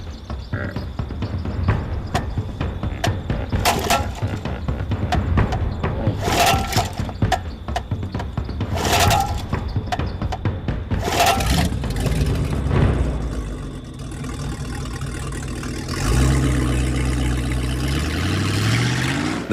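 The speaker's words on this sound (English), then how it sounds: "The engine is refusing to start" A boat's outboard engine on a river cranks and sputters in repeated failed attempts, each a short burst of mechanical noise, before catching and settling into a steady running drone, all fairly close and with no talk.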